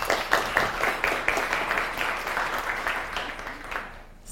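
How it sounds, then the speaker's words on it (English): A crowd of guests at a small business gathering applauds, dense clapping that starts strong and gradually thins and fades out toward the end, heard alone without talk. "I would say give a big round of applause to Terry."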